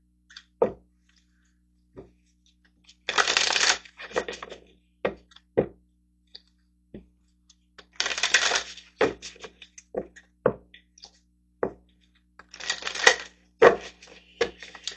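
Animal oracle cards shuffled by hand in three brisk rustling bursts, separated by sharp taps and clicks as the deck is handled and set down nearby.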